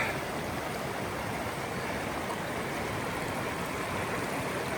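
A mountain stream beside a Carpathian forest trail rushes in an even, continuous hiss, close and unbroken, with no voices.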